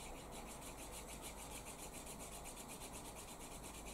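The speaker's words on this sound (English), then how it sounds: "Finish it off with some beeswax. It's just simply just rub it along the edges, give it a few passes" Beeswax is rubbed back and forth along leather edges to burnish them, a faint close rhythmic friction swish repeating in quick, even strokes with no talking.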